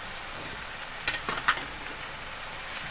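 Chopped green chilies and tomatoes fry in a pan, making a faint, even hiss with a couple of soft stirring clicks near the middle.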